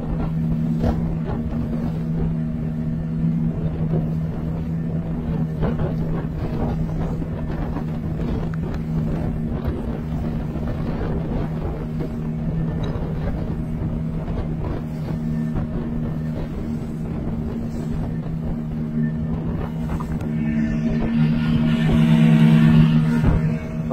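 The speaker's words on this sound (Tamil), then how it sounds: "இப்போ பாத்தீங்க 2 இன்ஜின் போட்டு போகிறோம்." Fishing boat running on two engines, a steady loud droning hum with a constant low throb throughout, joined by a rising wash of water and wind noise near the end.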